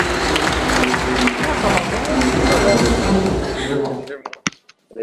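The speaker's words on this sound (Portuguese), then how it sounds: "receber com uma calorosa salva de palmas o nosso diretor jurídico" Audience applause welcoming a company's legal director onto the stage, a dense, sustained clapping crowd that fills about four seconds before breaking off abruptly into a few scattered claps and near silence.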